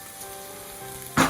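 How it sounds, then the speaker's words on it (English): Thai coconut curry crab sizzles quietly in a small frying pan, a soft steady crackle that ends with a brief louder hiss. "I have this in a fairly small frying pan."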